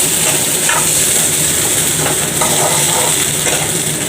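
Radish pulao with green leaves cooks in a pan, a loud, steady close sizzle and hiss broken by a few scraping stirs.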